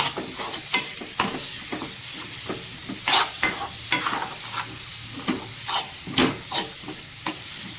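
A spoon scrapes and stirs semolina sheera, a ghee-based sweet made as a Satyanarayan offering, frying in a pan, with rhythmic scraping strokes over a constant sizzle.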